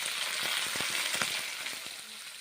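Mixed vegetables frying in a pan with coriander powder in a home kitchen, giving a steady close sizzle with brief scraping stirs scattered through it.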